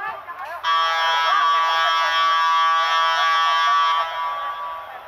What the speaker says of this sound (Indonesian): Buzzer kembali dinyalakan.